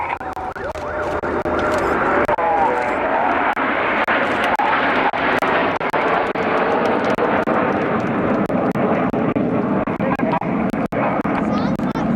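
Red Arrows Hawk T2 jet trainers flying in formation give a loud, continuous jet roar that holds steady for many seconds, with a commentator's voice running underneath it.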